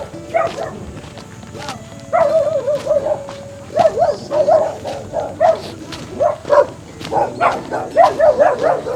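A dog barks repeatedly in short bursts, fairly close, with some background movement and faint footsteps.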